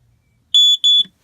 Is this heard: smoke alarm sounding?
yes